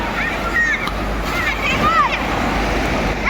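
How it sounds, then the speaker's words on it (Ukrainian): Artificial waves in an aquapark wave pool wash and surge steadily like the sea, a continuous rushing with bright squeals and shouts of bathers over it. "Хвиля, як в морі."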